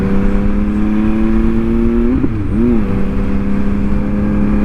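Steady loud motorcycle engine droning at a constant pitch through a Dominator full exhaust system, with one brief rev that dips and recovers before the even tone resumes, heard close.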